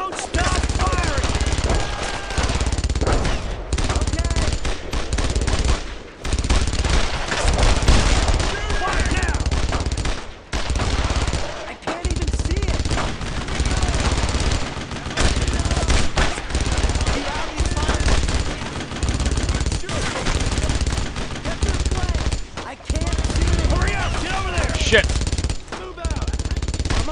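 Heavy, nearly continuous gunfire in the World War II shooter Brothers in Arms, dense overlapping rifle and machine-gun bursts with brief pauses, loud and close, while soldiers shout orders over the din.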